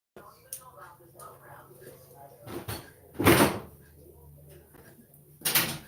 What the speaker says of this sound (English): Can you close that door so I don't hear the TV?